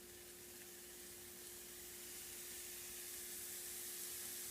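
About 1.5 pounds of ground beef in a skillet, being broken into small pieces for stuffed peppers, gives a faint, steady sizzling hiss that swells slightly over a constant low hum, with no voices.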